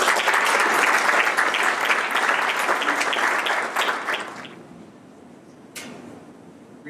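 An audience in a chapel gives steady, loud applause for Professor Ron Sider that fades into a quieter hall with a few stray claps.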